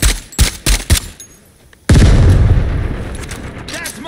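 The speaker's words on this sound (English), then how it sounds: "Hold on, grenade!" Grenade blast in the shooter game Caliber: a few sharp gunshots with brief talk, a pause, then a loud booming explosion that rolls into a sustained rumble with scattered crackle.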